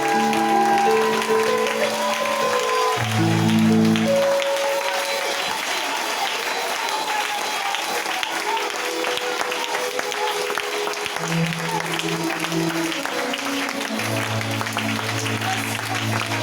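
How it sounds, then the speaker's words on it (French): A church congregation claps together for a long, sustained stretch of applause, steady and fairly loud, with a voice and drawn-out musical tones rising over the clapping. "Je voudrais qu'on se tienne tous ensemble debout et que nous acclamons Jésus."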